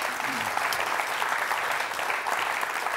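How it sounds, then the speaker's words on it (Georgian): An audience gives loud, continuous applause for the girls on a doctors' medical program. The thick, even clapping holds throughout the clip, with faint voices mixed in. "კიდევ უფრო მაგარი აპლოდისმენტები ჩვენ გოგოებს"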